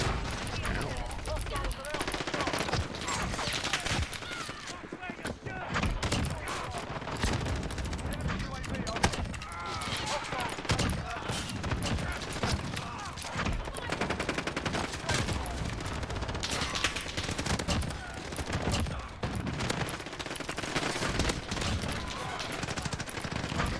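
Big-ammo shotguns blasting in a video game, dense rapid volleys of gunfire packed together almost nonstop, loud and chaotic, with a voice occasionally talking over the shooting.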